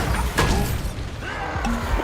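A Bombarda blasting spell goes off in a Harry Potter video game: crashing, booming bursts over a busy bed of game sound, with a sharper impact near the middle and another toward the end.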